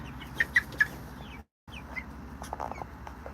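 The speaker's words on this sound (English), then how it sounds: "here's the meat chickens" Several short, sharp clucks from meat chickens close by, going through their molt, with a brief gap of silence midway and softer clucking after it over a low, steady background.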